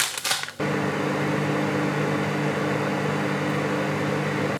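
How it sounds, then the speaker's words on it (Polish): Microwave oven running while melting butter for marshmallow treats: a short clatter at the start, then a steady, even hum with a faint electrical buzz that continues unchanged to the end. "W mikrofalówce będziemy rozpuszczać trochę masła"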